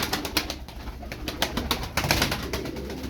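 Tumbler pigeons flap and flutter nearby in quick repeated wingbeat bursts with soft cooing underneath, close and fairly loud, with no talk.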